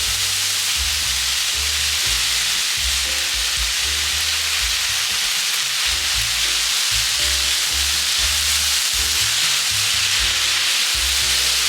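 Onion with oyster and wood ear mushrooms stir-frying in a pan for japchae, a steady loud sizzle with bursts of clattering stirring running throughout, no voices.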